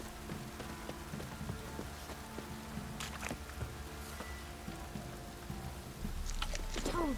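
Light drizzle in The Witcher 3, a faint steady patter of raindrops on surfaces with scattered soft ticks and a slightly fuller wash of rain toward the end.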